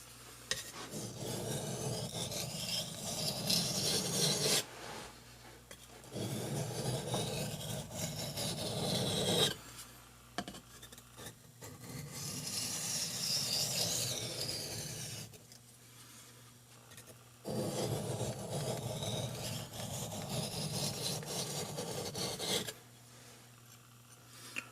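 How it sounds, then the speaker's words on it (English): A hand-forged camp knife rasps over a whetstone in long sharpening passes, heard as several sustained gritty scraping spells with short pauses between them. The sound is fairly quiet and close, with no talking. "we've sharpened it as far as we can get with this grit of a stone"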